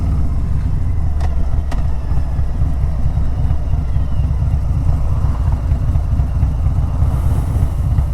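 A Harley Davidson Road Glide motorcycle rumbles steadily while riding, its deep low engine thrum continuous and close, with a couple of faint clicks early on and no talking.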